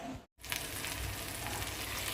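Kochu loti, taro stolons, sizzle and fry steadily in hot oil, a continuous close crackle after a brief silent cut near the start.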